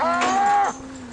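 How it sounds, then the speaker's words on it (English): A single cow on a dairy farm gives one short, clear moo up close, with faint background murmur afterward. "Other cows always seem to show a strong interest in the new calf."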